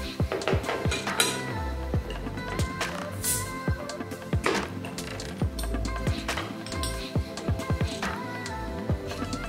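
A bottle of Strongbow Dark Fruit cider being opened and handled, with a run of sharp glassy clinks, taps and metallic knocks scattered irregularly, close up and with no talking.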